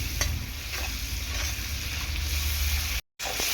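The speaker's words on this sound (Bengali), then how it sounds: "তো মোটামুটি এখন চিংড়ি মাছটা আমার হয়ে গেছে ভাজা" Shrimp fry in oil in a kadai with a constant close sizzle and a few light stirring scrapes. There are no voices, and the sound cuts out for a moment just before it finishes.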